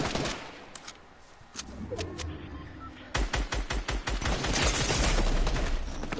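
Rapid bursts of gunfire from the video game Fortnite, loud and close, with sporadic shots followed by a sustained automatic volley.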